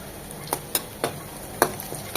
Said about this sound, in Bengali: প্যানে দিয়ে দিচ্ছি সয়াবিন তেল 3 চামচের মতো, একটা বড় সাইজের পেঁয়াজ কুচি দিয়ে দিচ্ছি, একটা তেজপাতা